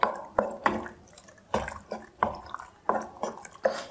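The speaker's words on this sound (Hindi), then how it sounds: "अब हम इसमें पास्ता डाल देंगे। बॉयल किया हुआ पास्ता डाल के ज़रा इसे मिक्स करेंगे।" Boiled pasta is stirred into white sauce in a pan, giving a run of wet squelching, slapping strokes in a steady rhythm, close and fairly soft, with no talking.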